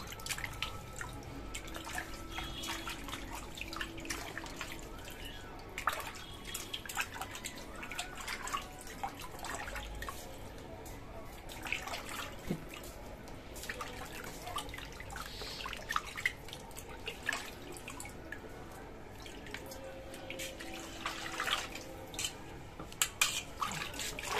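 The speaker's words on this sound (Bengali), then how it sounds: "এখানটা আমরা মাছটা খুব সুন্দর করে ধুয়ে নিচ্ছি।" Running water pours steadily over a 1 kg rohu fish being washed by hand, with continuous splashing and dripping and occasional small knocks, no talk.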